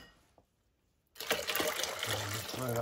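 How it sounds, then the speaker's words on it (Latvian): Water poured onto about a litre of beech seeds, starting as a faint trickle and then a steady, close splashing pour that fills the rest of the clip. "Lies ūdeni un skatīsiet,"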